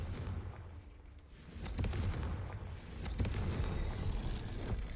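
Confringo spell blasts in Hogwarts Legacy, a pair of deep booming explosions with rumbling tails and sharp crackling onsets, loud and close, with no talk over them.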